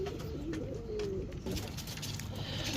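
Pigeons coo softly in a series of low, rolling calls, close by against a steady murmur of background noise.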